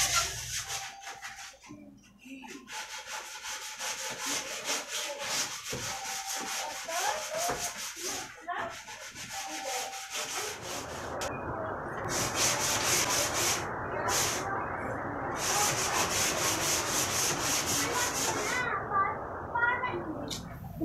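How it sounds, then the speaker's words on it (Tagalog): Hand sanding a wooden computer table part with sandpaper, rapid rhythmic back-and-forth rasping strokes throughout, steady and fairly close, with people talking over the first half. "liha na tayo."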